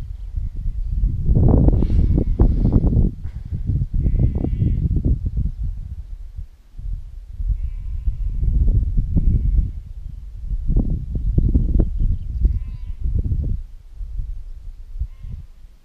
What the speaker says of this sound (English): Can you hear those sheep and the lambs?